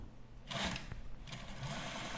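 An FX/DD750W servo motor on a sewing machine whirs steadily for a couple of seconds, a close, continuous mechanical hum with a brief rise in pitch partway through.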